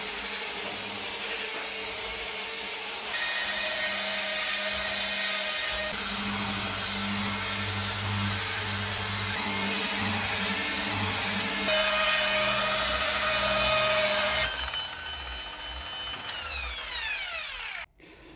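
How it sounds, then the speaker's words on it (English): A polisher buffs the freshly wet-flatted paint on a crash-damaged Mercedes S280 under repair. The machine whines steadily and close, its pitch shifting with the load, then spins down and stops at the end. "it's time to buff it up with a polisher"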